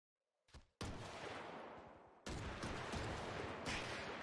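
Gunfire erupts around a house in the GTA RP game: a short burst first, then sustained rapid fire that pauses and resumes even louder, close and dense.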